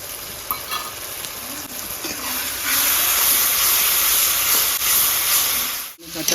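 Onions frying in a pan with ginger, garlic and green chili paste just added, giving a steady loud sizzle and hiss that swells partway through, with faint stirring knocks and no talk.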